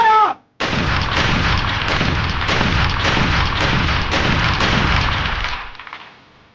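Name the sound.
soldiers firing guns in a volley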